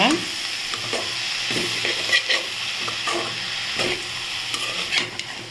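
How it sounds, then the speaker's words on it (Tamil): Drumstick leaves sautéed in an oiled pan for a thuvaiyal, a constant close sizzle with repeated scraping stirs of a spatula throughout. "நம்ம முருங்கையிலையை சேர்த்துச்சு அதையும் நல்லா சுருளாக வதக்கிக்கோங்க"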